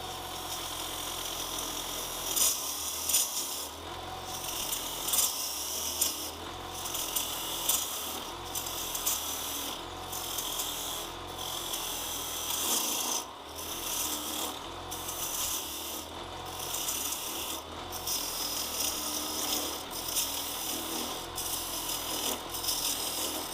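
Shop Fox W1752 1/3 HP benchtop lathe turning material, a steady motor hum with repeated rasping, scraping cuts as the tool bites and the spindle bogs and slows under light load.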